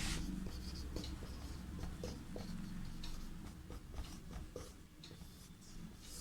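A teacher writes on the board during a Class VI Sanskrit lesson. Faint scratchy strokes and light taps come in an irregular rhythm over a soft room hiss, and no one speaks.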